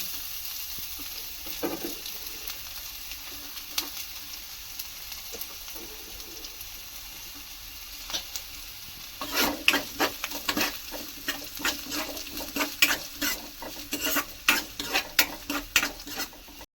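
Cut onions fry in a pan for tomato dal, a low steady sizzle that grows busier partway through, with repeated spatula scrapes and stirring taps near the end.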